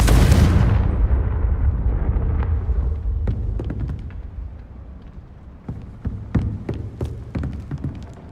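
A Confringo fire spell blasts in the video game Hogwarts Legacy, opening with a loud burst that fades into a rumbling tail, followed by scattered sharp crackles and impacts.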